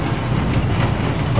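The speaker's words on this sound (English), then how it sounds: "Oh, it's a train." Train rumbling past in the shooter game Wolfenstein: The New Order, a steady, loud, dense low roar with rattling wheel and carriage noise throughout, no pauses or talk.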